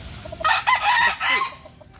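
A rooster crows once, loud and close, its call rising and breaking into a drawn-out, strained cackle lasting about a second and a half.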